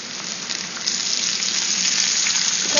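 Garlic and salt sizzling steadily in a hot frying pan, a dense, continuous crackle and hiss heard close up with no talking.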